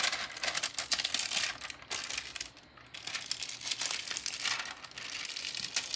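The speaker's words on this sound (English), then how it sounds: "So now I'm going to peel this layer of rhinestones off. Removing the Hotfix tape." Hotfix rhinestone transfer tape is peeled away, giving a faint, close crackling and crinkling that runs in uneven bursts with brief pauses.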